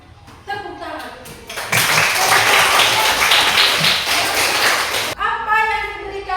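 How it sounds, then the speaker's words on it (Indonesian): A group claps together in a burst of applause lasting about three seconds, loud and dense, with a speaking voice just before and after it. "tepuk tangan"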